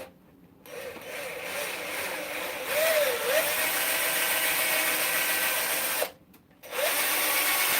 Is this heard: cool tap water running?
no